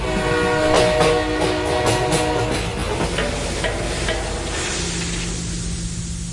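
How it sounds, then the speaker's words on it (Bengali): A train pulls into Madhusudanpur station, its wheels clattering loudly with a dense metallic rumble that fills the scene, then easing into a steadier hum as it slows. "ঝমাঝম আওয়াজ করতে করতে ট্রেনটা ঢুকল মধুসূদনপুর স্টেশনে"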